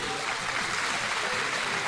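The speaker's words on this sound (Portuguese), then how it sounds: "Os vencedores aplaudam ao Senhor" Church congregation at a Sunday morning service applauding together, a dense, continuous burst of clapping filling the room with no voices over it.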